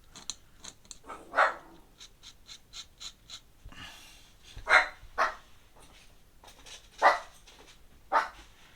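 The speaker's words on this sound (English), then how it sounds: "Oh, what are you barking at?" A dog barks in short, sharp bursts indoors, about five loud barks spaced irregularly with quieter huffs and breathing between them, and no talking over it.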